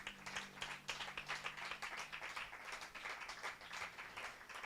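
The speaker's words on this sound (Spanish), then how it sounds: "Denle un fuerte aplauso." A church congregation applauds during a service, with steady, moderately distant clapping that carries on throughout at an even level.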